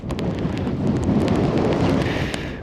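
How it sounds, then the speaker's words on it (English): Wind gusts across a snowy winter wild camp on Walla Crag in the Lake District, a loud continuous rumble buffeting the microphone, with a few faint taps or flaps on top. "Wind's just picking up a little bit."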